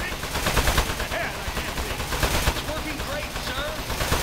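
Gunfire in the video game Aperture Desk Job, a rapid continuous burst of shots running throughout, loud and close under light game sounds.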